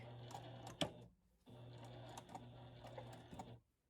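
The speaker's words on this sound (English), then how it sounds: "I'm going to turn this to top stitch right across this edge and back." A sewing machine top-stitches across the edge of a batik linen tunic pocket, whirring in two steady bursts with a short pause between them, close and fairly quiet.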